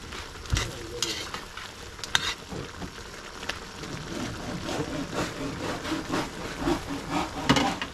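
Buttered shrimp sizzle in a hot pan while a utensil scrapes and stirs through them, a steady loud fry with repeated sharp knocks of the spoon against the pan.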